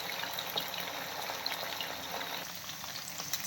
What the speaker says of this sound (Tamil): மிதமான சூடு இருக்கும்போதே நம்ம கொஞ்சம் கொஞ்சமாக சிக்கன் போட்டு ஃப்ரை பண்ணி எடுத்துக்கலாம்